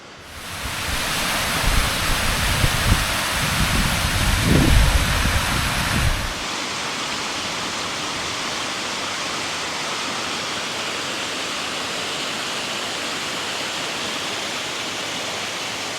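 Steady roaring rush of a mountain waterfall on Ben Nevis, a dense continuous wash of falling water heard alone, louder and fuller for the first six seconds and then settling to a softer, even roar.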